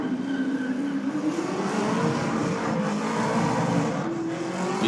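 A drift car at a Race 4 Real session screams at high revs, its engine note rising and wavering with squealing tires as it slides through the corner, loud and sustained without pause.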